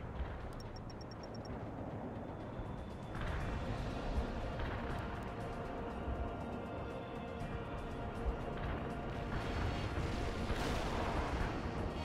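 Artillery fire in the war video game World in Conflict, dull heavy booms and rumbling blasts recurring over a constant low battlefield roar, fairly faint and distant.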